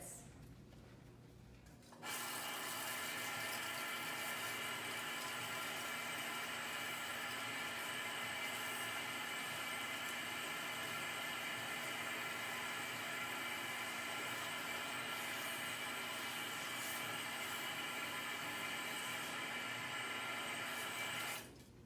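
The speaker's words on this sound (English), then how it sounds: "So then we'll go ahead and give that a rinse." Water runs steadily from a salon rinse spray over a client's hair after shampoo and conditioner, a constant hiss that starts abruptly after a brief quiet moment and continues unbroken, close and even.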